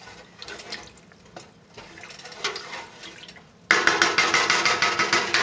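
Beef broth from 32-ounce cartons pours into a pot of taco soup, a steady close liquid gush that starts abruptly and runs loud to the end after quieter kitchen sounds.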